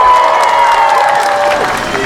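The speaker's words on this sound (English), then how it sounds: "we need to give a round of applause again to the Lee Pop family" Loud crowd cheering and applause at a hometown celebration in St Paul, Minnesota, honoring the Lee family, a dense continuous roar with whistles and shouts, close and sustained throughout.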